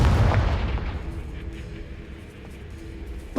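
A Confringo fire-blast spell from Hogwarts Legacy bursts loudly at the start, a heavy booming impact that rolls away into a long, fading rumble with faint crackles.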